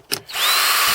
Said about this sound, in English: I'm going to drill them myself just using this template right here.